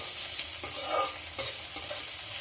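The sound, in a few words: onion frying and being stirred in hot oil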